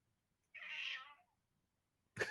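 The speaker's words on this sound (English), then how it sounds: "yeah, the cat is complaining too" A house cat meows once in a drawn-out, complaining cry, close and fairly loud against a quiet room, followed after a pause by a short burst of another noise.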